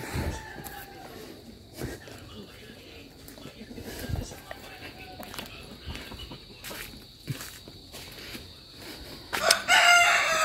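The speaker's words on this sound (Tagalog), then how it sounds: "Ang daming manok" Roosters crow and chickens cluck in the background of an outdoor scene, fairly distant, with insects chirping and footsteps or rustling nearby.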